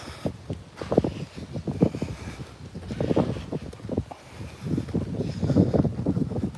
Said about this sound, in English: it wasn't windy when we came out, and now it's windy